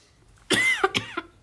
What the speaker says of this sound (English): right when I go on, I start coughing